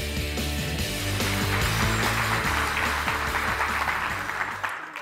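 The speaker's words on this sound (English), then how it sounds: "So I want you to welcome him with a big round of applause." A large audience at a breakfast gathering for government, education and nonprofit attendees gives a loud, sustained round of applause welcoming a speaker. The clapping is over a steady low hum and tapers off at the end.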